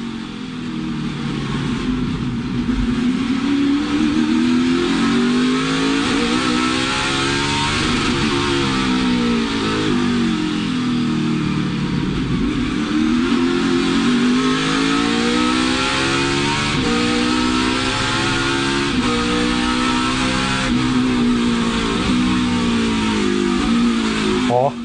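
A NASCAR Xfinity race car engine roars from an onboard camera mounted under the car on a Chicago street circuit, loud and continuous, rising and falling through revs and gear changes, with commentators talking over it.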